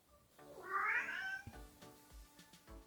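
A single cat gives one drawn-out meow up close, followed by soft low thumps and faint rustling.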